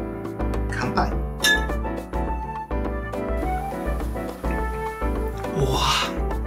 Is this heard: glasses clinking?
yes